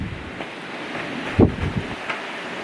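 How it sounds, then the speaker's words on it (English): Strong outdoor wind buffeting the microphone in continuous low rumbling gusts, with one heavier thump of a blast partway through. "it's still windy out here, guys."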